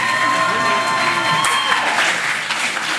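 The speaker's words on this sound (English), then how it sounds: "big round of applause, please." Steady applause from a crowd at a Key Club ceremony in Kralendijk, Bonaire, a continuous patter of clapping that fades slightly toward the end.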